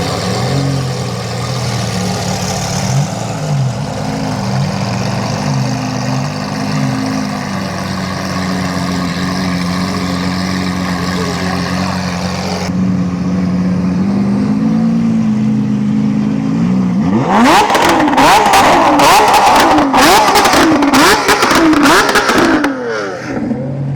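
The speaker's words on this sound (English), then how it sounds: "The mix of the V10 and the V12 sounds incredible, guys." Sports cars with V10 and V12 engines at a Sarasota cars and coffee meet, a low steady idle giving way to sharp, loud repeated revs near the end.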